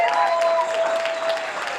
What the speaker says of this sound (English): Let's help give Mrs. Carmelita Collier a round of applause.